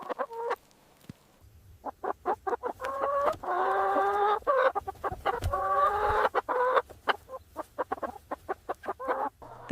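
Hens clucking in a lively series of short, close calls as they are herded across to fresh pasture, with a few longer, drawn-out squawks rising from the flock near the middle.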